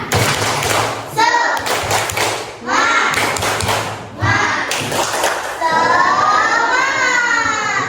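Schoolchildren in an Indonesian classroom perform the 'tepuk semangat' cheer, clapping in bursts while chanting together loudly, ending in a sustained shout.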